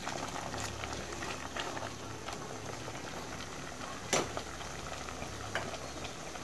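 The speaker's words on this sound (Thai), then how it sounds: "ใส่หมดเลยครับคนเลยครับคนให้เข้ากัน" Pak wan curry seasoned with fish sauce and fermented pla ra bubbles softly at a boil while being stirred, a faint, steady bubbling and patter with an occasional clink of the spoon, and no talk.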